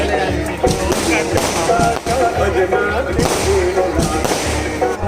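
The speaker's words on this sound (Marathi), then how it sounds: "फटाक्यांची आतिषबाजी होते बघा" Pops and thuds of fireworks burst repeatedly amid a busy, noisy crowd at a village temple fair in Pandur, with people talking and shouting throughout.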